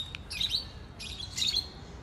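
A pet conure parrot calls out to another parrot from a tree, giving two bursts of high, shrill chirping plus a brief earlier peep, moderately distant and with no voices.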